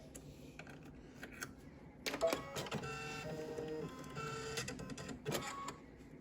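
Sewing machine running a straight stitch over elastic on a fabric Kindle sleeve, a quiet start followed by a steady mechanical whirring burst from about two seconds onward, with a brief pause before a final run.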